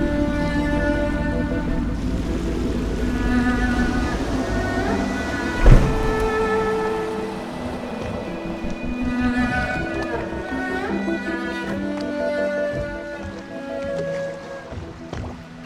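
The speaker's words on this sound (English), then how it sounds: "I should concentrate on piloting this boat." A boat piloted across water in the Dishonored video game, with a continuous low churning wash and a single splash partway through, under steady game music.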